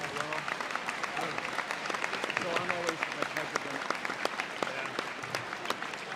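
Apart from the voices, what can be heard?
crowd applause for seniors and their parents at wrestling meet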